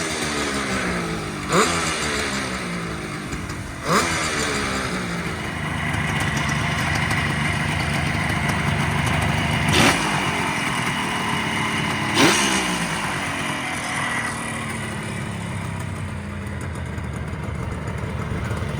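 A 1973 Kawasaki S2A motorcycle engine runs steadily at a close, loud idle, with a few sharp throttle blips spaced several seconds apart and no talking.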